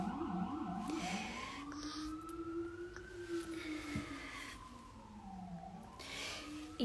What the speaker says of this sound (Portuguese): Pausa pra ambulância.